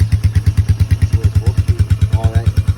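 A four-wheeler engine idles low and close, with a loud, even, rapid thumping pulse that holds steady throughout, while people talk briefly over it.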